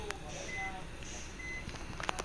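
Reversing beeps of a bus in the Bus Simulator Indonesia game, a few faint evenly spaced tones over steady rain and background noise.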